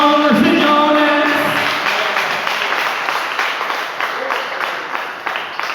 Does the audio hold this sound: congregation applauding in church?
yes